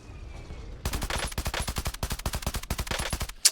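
Rapid automatic gunfire from the Call of Duty Warzone video game rattles in a sustained burst of about two and a half seconds, loud and close, ending with a sharp single click-like crack.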